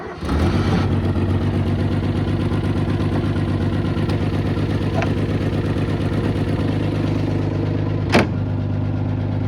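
Old Mercedes car with a newly connected battery, its engine running at a steady, rough, loud idle after starting, with a sharp click near the end.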